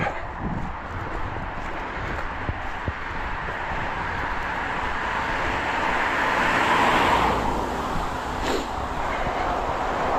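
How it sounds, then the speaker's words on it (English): A car approaches and passes along a road beside someone walking on the pavement, its rising, broadband swish building to a peak near the end, with steady traffic rumble underneath throughout. "Got another car coming here."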